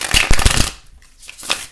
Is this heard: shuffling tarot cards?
yes